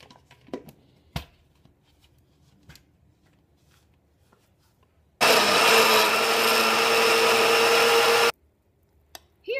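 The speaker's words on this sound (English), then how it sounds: "I am going to blend about 3/4 of that soup mix in the blender" A blender roars loudly for about three seconds while blending vegan broccoli cheese soup, then stops, with a few faint clicks and handling sounds before and after.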